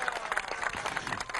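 A crowd applauds the Bolivarian National Armed Forces at a public event in Nueva Esparta, Venezuela, with a steady, dense wash of many hands clapping and a faint background murmur.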